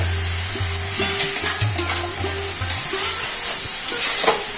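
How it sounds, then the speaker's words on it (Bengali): Banana flower is stir-fried with chilli powder, ground ginger and cumin in a pan, a close, continuous hiss of sizzling with a spatula scraping and stirring at an irregular rhythm, and no voices. "এই মশলার সাথে মোচা খুব ভালো করে কষিয়ে নেব"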